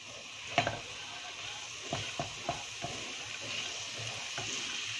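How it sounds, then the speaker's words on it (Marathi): Shredded cabbage and carrots sautéing in a pan with curry leaves, a quiet steady sizzle under several light spatula taps and scrapes, no talk. "कोबी, गाजर आणि असं 2-3 मिनिटं परतूया."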